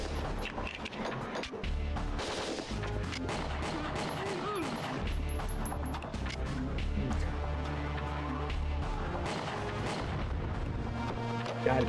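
Gunfire in the PS2 game Winback Covert Operations, dense overlapping shots and booms rolling on continuously for the whole stretch under game music and effects.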